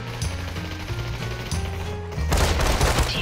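Rapid gunfire in the VR shooter Population One, a dense continuous burst of automatic shots with mechanical clatter that grows louder and heavier partway through, with no talking.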